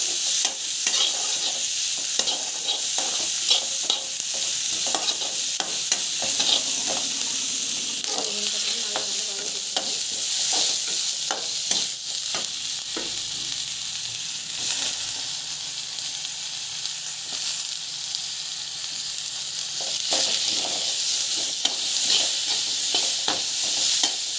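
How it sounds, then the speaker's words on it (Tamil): Onion and coconut sautéing in a pan for coconut onion chutney, a steady close sizzle and hiss with repeated scraping stirs of a spoon across the pan throughout. "நல்லா வந்து வதக்கணும்."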